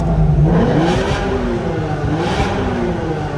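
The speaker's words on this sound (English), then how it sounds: "Give it a little rev so you can hear." A Nissan GT-R engine revs up and settles, its throaty drone rising and falling in pitch close by, loud and continuous with no talking.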